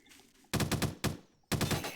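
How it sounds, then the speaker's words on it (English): Nail gun firing in a Doom mod running on the Source engine, two loud rapid bursts of quick mechanical shots separated by a short pause, with no talking. "That's the nail gun, yeah."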